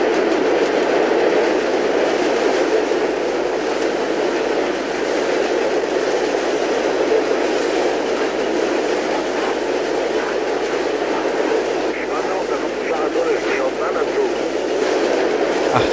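A moving train rumbles and clatters steadily and loudly for the whole span in the video game Mirror's Edge, with a continuous rolling roar and faint rhythmic wheel clacks.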